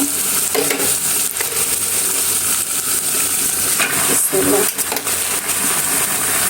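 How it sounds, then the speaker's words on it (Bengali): Malabar spinach stems and leaves go into a pot of hot oil with boiled potatoes, giving a loud, close, continuous sizzle with scraping stirring strokes and occasional clinks. "এখন আমি পুঁই শাকগুলো দিয়ে নিব।"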